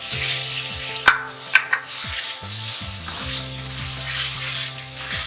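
Half a kilo of mutton sizzles in hot oil with a tablespoon of garlic and coriander for aloo gosht. The frying is loud and steady, with a few sharp clanks of a spoon against the pot near the start.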